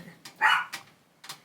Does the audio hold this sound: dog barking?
yes